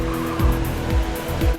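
Race car tyres slide and squeal in Trackday Manager, a steady engine drone with three short descending squeal-like sweeps, close and fairly loud.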